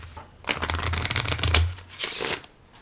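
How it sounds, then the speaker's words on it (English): A deck of playing cards being shuffled quickly at home, with rapid riffling bursts of crisp flutter in two quick passes, close and alone. "we're going to really quickly shuffle up these cards"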